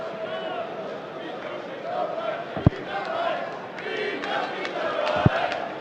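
Spectators at the 2017 Austrian Darts Open cheer and chant during a Peter Wright match, a moderate, muffled crowd roar with a couple of sharp thuds, under a commentator's voice.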